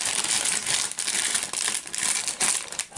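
Plastic bag packaging around an optical digital-to-analogue audio converter being handled and pulled open, a steady close-up crinkling and rustling that swells and dips for the whole stretch, with no voices.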